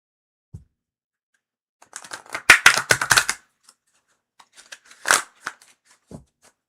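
Tarot cards are shuffled in quick bursts of crisp riffling slaps and taps, with scattered single flicks before and after and no talk.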